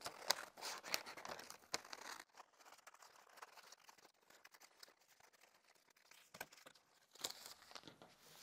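Scissors roughly cutting out appliqué fabric for a quilt, a run of close crisp snipping and crinkling rustles, with a short quiet gap before the cutting resumes.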